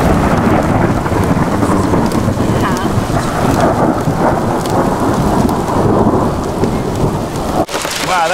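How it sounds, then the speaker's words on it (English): Heavy rain pours steadily and loudly during a thunderstorm, with continuous rolling thunder rumbling beneath it, dense and close throughout, with a brief sharp dip near the end. "Our favorite thing about staying at this place, though, might have been the epic thunderstorms that we witnessed."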